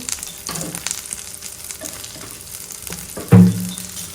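Bay leaf and black cumin crackling in hot oil in a pan, a close, continuous sizzle with a few scraping stirs and one louder burst of spattering near the end.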